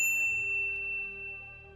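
A single bright notification bell dings once and rings out, its tone slowly decaying to silence.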